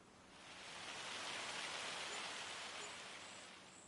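Rain falls steadily in Farming Simulator 25, a soft, even hiss that swells in and fades slightly, quiet and continuous with no voices.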